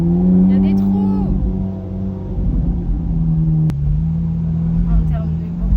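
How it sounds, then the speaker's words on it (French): Ferrari 458 Tailor Made V8 engine roars loudly nearby, pitch falling from a rev then holding a steady, rumbling note with another brief rise, continuous throughout with no talk. "Elle fait un bruit, sa sonorité elle est exceptionnelle."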